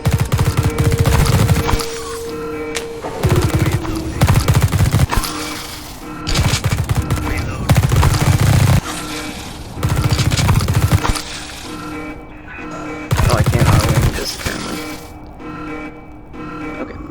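Squad gunfire in the top-down game The Red Solstice, with loud bursts of automatic fire arriving in regular volleys about every two seconds, separated by brief quieter gaps, with no speech.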